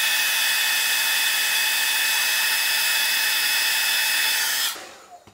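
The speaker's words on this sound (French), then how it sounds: "On va remettre un petit coup de sèche-cheveux." A hair dryer blows steadily and loudly at close range while it heats the screen glue on an iPod Touch 5, then shuts off abruptly near the end.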